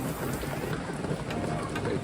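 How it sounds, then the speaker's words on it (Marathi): Heavy rain pours down steadily in Kalyan, a dense, continuous hiss of drops spattering on surfaces close by, unbroken for the whole stretch with no voices. "कल्याणला मजबूत पाऊस आहे."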